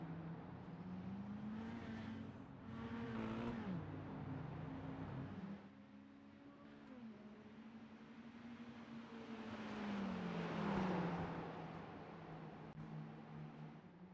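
Mini stock race cars circle a dirt track with about ten still running, engines rising and falling as they pass at varying distances, one loud pass followed by a quieter stretch and another swelling approach.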